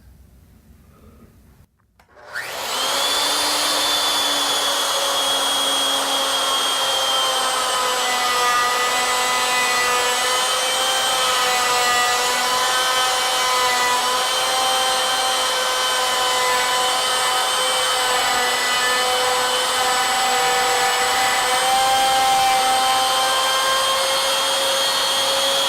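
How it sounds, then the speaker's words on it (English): A lathe cutting around a wooden spiral candlestick, a loud, sustained high whine with steady tonal overtones that starts abruptly after a brief quiet moment and runs unbroken for over twenty seconds. "Now I'm going to lock this onto the lead screw so it won't move, and we'll cut around the circumference of the part."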